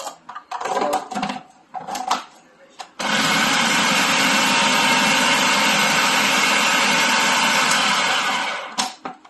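A food processor grinds hot peppers for homemade salsa, a loud steady whir running about six seconds without letup after a few seconds of talk and handling, then cutting off.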